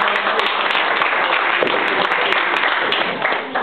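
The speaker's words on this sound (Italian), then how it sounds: "Un applauso a Mombasta, vai." Audience applause fills a public meeting in Casoria on car insurance, a continuous, loud wash of clapping that begins to thin toward the end, with some crowd noise mixed in.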